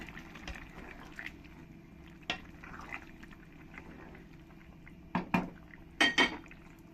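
A spoon scrapes and clanks in a pan of fried bam fish and bottle gourd curry, with quiet simmering between a few sharp metallic knocks near the end.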